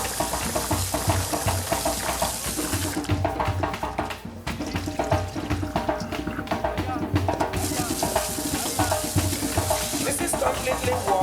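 Rice being washed in water in a pot for jollof rice, with continuous splashing and swishing and intermittent rhythmic sloshing, close and fairly loud with no voice over it.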